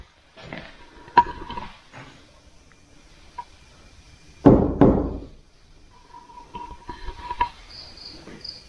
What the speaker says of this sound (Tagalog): Pwede mo bang katukin yung bubong o kaya katukin yung kisame?